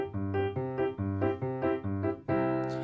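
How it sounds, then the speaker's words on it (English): A major chord played on piano, struck repeatedly in a steady rhythm, about six times, each ringing briefly before the next, with a final sustained chord. "One is a major chord. It sounds like this."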